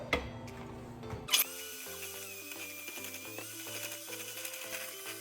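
An electric mixer whips cloud bread mixture in a bowl. Its fairly quiet motor whir shifts pitch in steps, after an abrupt knock near the start, and no one speaks.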